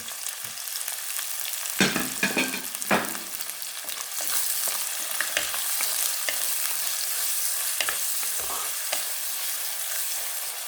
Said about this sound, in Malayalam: പൊട്ടിയ കടയിലോട്ട് നമ്മൾ വെളുത്തുള്ളി, ഇഞ്ചി, ചെറിയ ഉള്ളി, കുറച്ച് സവാള, പച്ചമുളക് ഇതെല്ലാം കൂടി ഇടുന്നത് കേട്ടോ. എല്ലാം കൂടി വഴറ്റാണല്ലോ.